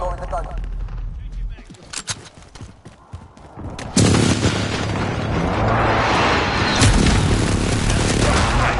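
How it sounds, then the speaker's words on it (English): Precision airstrike explosions in a Call of Duty match: after a few seconds of sparse game sounds and voices, a loud sustained blast erupts and keeps roaring with rumbling debris, with speech over it. "Enemy precision airstrike."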